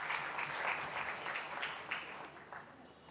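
Guests at a Mrs Punjaban pageant event applaud, giving a dense, continuous patter of clapping from a crowd that stays fairly even before gradually thinning toward the end.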